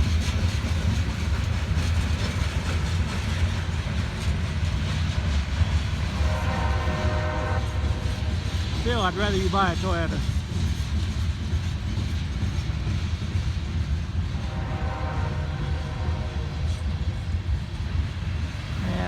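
Freight train of auto rack cars rolling past at a crossing in Princeton, Indiana, a continuous loud rumble with wheel clatter, a horn sounding in short bursts in the middle, and someone talking briefly over it.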